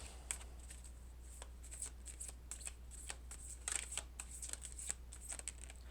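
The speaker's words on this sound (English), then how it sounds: "This is just cards pulled, what kind of energy, just like any type of oracle deck" Oracle deck cards being shuffled by hand, a continuous riffling patter of rapid soft card flicks close up in a quiet room, alone without talk.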